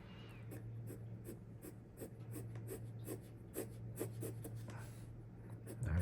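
A pencil sketching on paper in short repeated scratchy strokes, close and steady, over a low constant hum and faint background noise.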